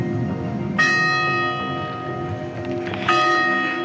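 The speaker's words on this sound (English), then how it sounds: "Listen to the little church bells." Small church bells ring in Girona, Spain, with two clear strikes whose bright tones hang and decay over a steady background of street ambience.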